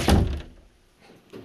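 A door swings shut with a single solid thunk at the start, then the room goes quiet until a faint knock near the end.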